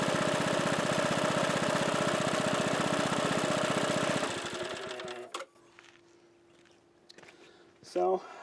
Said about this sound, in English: Idle's pretty nice. A little rattly, but that's pretty common on these.